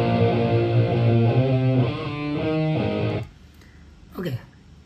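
Heavily distorted electric guitar played through a Neural DSP Gojira amp plugin, chugging metal rhythm chords for about three seconds, then cutting out to near silence with a brief squealing slide.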